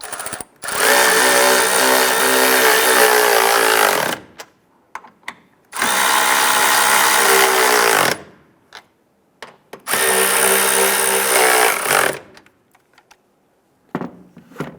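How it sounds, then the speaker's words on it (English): Three loud, sustained bursts of a power tool snugging down the upper strut nuts on a 2005–2010 Chrysler 300 during a strut mount replacement, each about four seconds long, separated by brief clinks and handling noises. "Let's go ahead and snug down these upper strut nuts."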